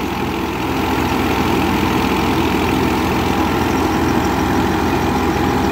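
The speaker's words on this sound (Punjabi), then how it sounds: "ਅਸੀਂ ਤੁਹਾਡੇ ਸਾਹਮਣੇ ਮਸ਼ੀਨ ਚੱਲ ਰਹੀ ਆ ਬੇਗ ਵਾਲਿਆਂ ਦੀ" A wheat thresher runs behind a Massey 240 tractor in Faisalabad, Punjab, giving a loud, steady engine drone with a dense mechanical rumble that holds unbroken throughout.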